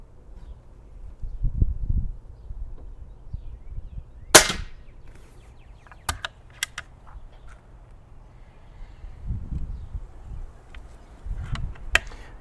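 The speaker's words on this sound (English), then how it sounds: "Let's jump back to these 8-grain wad cutter pellets. Try them again." A Snowpeak MAT300 10m air rifle fires an 8-grain wadcutter pellet with a single sharp, close crack, followed by a few fainter clicks and handling noises over a quiet background.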